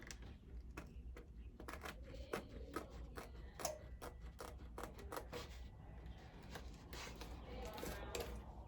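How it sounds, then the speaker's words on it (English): Scissors snipping excess lamination off the edge of a sublimation gift box, a quick run of faint, close crisp cuts with soft handling rustle and no voice. "any extra lamination that hangs off, just cut it off on the end"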